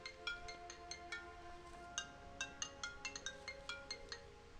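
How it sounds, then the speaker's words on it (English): A mobile phone ringtone going off, a rapid pattern of bright chiming, bell-like notes repeating in quick bursts over a soft sustained tone, fairly close and clear. "Apologies, I don't know why my phone has to go off."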